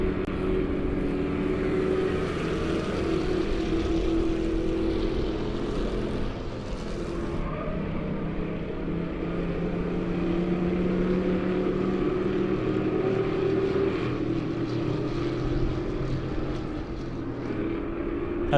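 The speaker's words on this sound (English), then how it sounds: "A little flyover there." A propeller airplane passes overhead at a dirt-track season championship race, its steady drone blending with continuous race-car engine roar throughout, with no distinct rise or fade.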